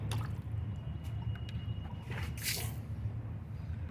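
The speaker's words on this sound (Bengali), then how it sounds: "এই পাত্রটাকে আরেকটু ধুয়ে নেবো" A container for lotus tubers is rinsed out with water: steady close sloshing and trickling runs throughout, with a brief brighter splash partway through and no talk.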